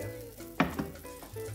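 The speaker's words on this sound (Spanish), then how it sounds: "Pasta a la olla. ¿Vale? Mira, Celia, ¿vale? Pasta a la olla. Verdura, a la olla" Pasta and vegetables fry in a pot with a brief, moderate sizzle, punctuated by a sharp clatter of utensil against the pot partway through.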